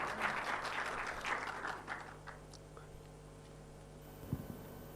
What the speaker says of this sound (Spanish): Un aplauso para Sofía y Ricardo